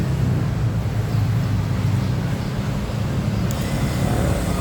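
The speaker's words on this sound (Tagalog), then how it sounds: "okay na yung ating nirepair na EPS motor. Ngayon, testing na natin." A repaired electric power steering motor runs on a direct test in an auto electrical shop, giving a steady, fairly loud mechanical hum with a low droning body that holds constant throughout, no voices.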